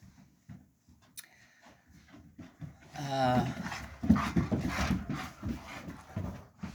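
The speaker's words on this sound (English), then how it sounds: "The dogs are back. They went for a run." Dogs back from a run pant hard and close, quick rhythmic breaths that start a few seconds in and keep going, mixed with shuffling and rubbing noises around them.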